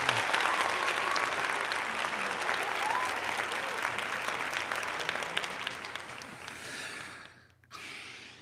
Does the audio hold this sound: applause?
yes